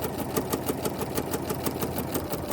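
A sewing machine stitches fabric for a pillow, running at a steady pace with an even, rapid mechanical clatter, close and continuous, with no voices.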